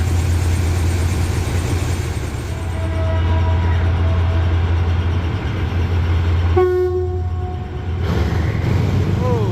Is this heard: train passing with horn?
yes